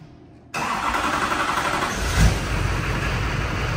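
A cheap used Duramax diesel truck engine cranks and catches abruptly after a quiet start. It settles into a loud, steady idle with a brief swell of revs partway through and no voices.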